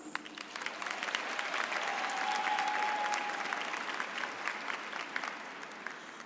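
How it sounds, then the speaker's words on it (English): Steady audience applause for a college board of trustees at a 2025 commencement ceremony, a dense wash of clapping that swells slightly midway and holds for several seconds, with no talk over it. "Join me in a round of applause for the Spelman College Board of Trustees."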